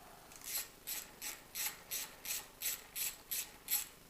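A ratchet wrench undoes the 12mm front brake caliper bolts on a DRZ 400 motorcycle, giving about ten evenly spaced bursts of close, crisp clicking with no talk.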